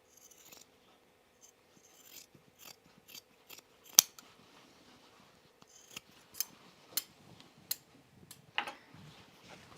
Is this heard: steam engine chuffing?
no